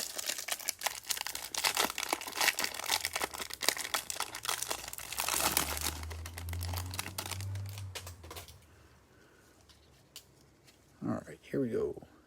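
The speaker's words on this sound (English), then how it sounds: "Just waiting to open one of these packs" A basketball trading card pack wrapper torn open, with close crinkling and tearing bursts for several seconds, then a quieter stretch and a brief crinkle near the end.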